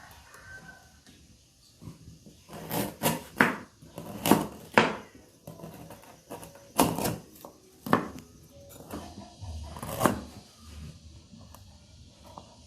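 Knife slicing galangal and other spices on a cutting board, a series of sharp, close chopping knocks in uneven clusters with quiet pauses between, with faint bird or chicken sounds in the background.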